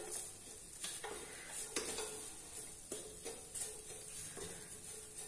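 Grated coconut and cashews are sautéed on a low flame with soft scraping stirs and a faint, steady sizzle; quiet and close, with a few light knocks of the spoon against the pan.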